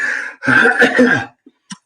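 A single harsh cough, close and loud, followed by a couple of faint clicks.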